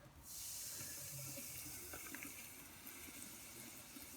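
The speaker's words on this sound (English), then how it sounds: "Now we're just going to pour vinegar down the drain." Vinegar is poured down a household drain, making a steady, faint liquid splashing and gurgling that runs alone for about four seconds.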